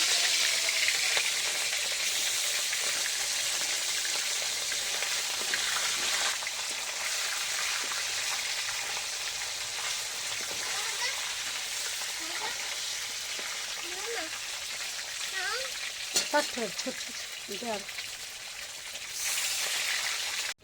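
Fish sizzling in hot oil in a pan, a broad steady hiss heard throughout, with faint voices and small clatters.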